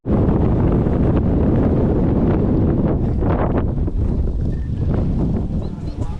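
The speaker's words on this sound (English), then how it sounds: "Oh, she's a windy one." Strong wind over a lake on a spring fishing trip blasts the microphone in a loud, continuous roar with gusty surges throughout, close and overwhelming, and no clear speech.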